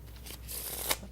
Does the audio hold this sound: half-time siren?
no